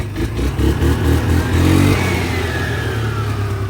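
A Gen 1 Can-Am Outlander ATV engine idles loudly and close, swelling into a revving surge before settling back to a steady, rough running rumble, with no voices.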